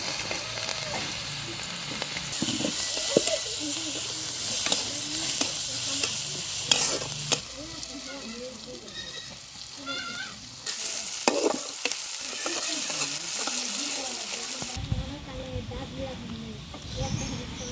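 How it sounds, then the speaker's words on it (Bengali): Onions fry in hot oil for a fish and taro-stalk curry, loud sizzling bursts broken by repeated scraping stirs, with a voice sounding over parts of it. "ভাজা হয়ে গেল, এই তেলে পেঁয়াজটা দিয়ে দিলাম।"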